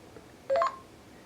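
A short burst of electronic beep tones from a T-Mobile myTouch phone's Genius button as Nuance voice command activates, a quick stacked chirp of rising tones, close and clean against near silence.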